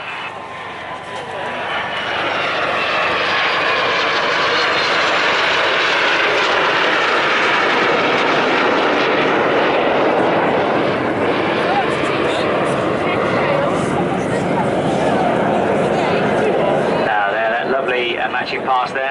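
Aircraft making a loud, sustained roaring pass at a seaside air festival, the engine noise swelling and holding steady before fading, with a commentator speaking over it.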